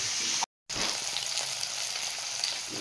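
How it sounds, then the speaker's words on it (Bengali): Fish, local tangra and singi, frying in oil in a home kitchen gives a steady, close, bright sizzle that cuts out briefly near the start, with no voices. "এদিকে মাছগুলো ভেজে নিচ্ছি।"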